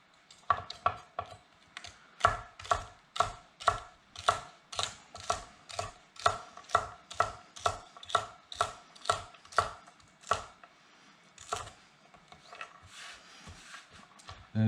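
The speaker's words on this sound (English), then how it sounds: "So I'm going to cut it in half, and I'm going to slice it" A knife cuts through celery on a board in a fast, steady run of about twenty crisp, even chops, tapering off into lighter, scattered taps.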